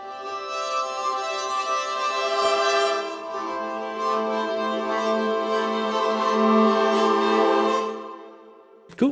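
A sampled textural violin from a Kontakt library plays several layered articulations at once: a sustained, harmonically rich bowed tone with shimmering upper texture, swelling gently and then fading out near the end.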